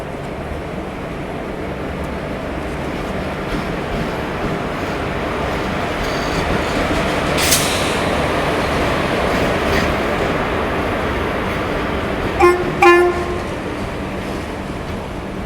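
Guruvayur to Madurai train arriving at Sengottai station platform 1, a steady broad rumble of rolling wagons with a brief horn-like tone midway and clanking wheel clicks near the end, no talking.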